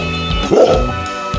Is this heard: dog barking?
yes